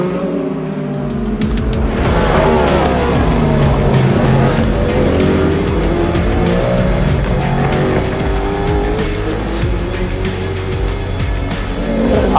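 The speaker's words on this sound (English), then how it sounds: "As the cars raced on into the night" Race cars lapping Le Mans at night, engines roaring up loudly as they pass close by, with tyre noise and a continuous dense blend of several cars accelerating and fading, no talking.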